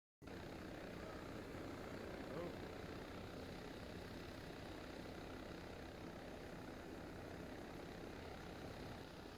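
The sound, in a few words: helicopter engine in Arma video game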